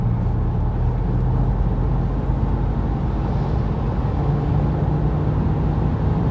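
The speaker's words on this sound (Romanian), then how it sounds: "Mașina trage bine." Steady loud road roar from inside a BMW cruising on the A6 autobahn in Germany, continuous engine and tyre rumble with no talk.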